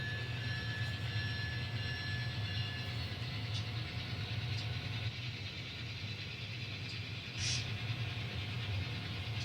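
An N scale model train rolls along a layout's main line, a low steady rumble of motor and wheels with faint higher squeaks, continuous and fairly quiet.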